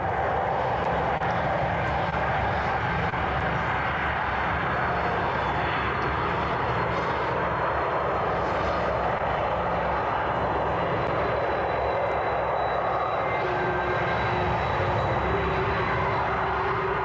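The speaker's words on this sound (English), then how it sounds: "that's the sound of a jumbo jet fueling" A jumbo jet carrying a satellite launcher under its wing at a spaceport sends out a loud, steady, continuous engine roar that holds for the whole stretch without letting up.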